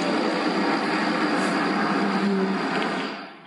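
An airplane passes overhead at a house, a steady broadband roar that holds loud and even, with a faint droning tone, then fades toward the end; no talking.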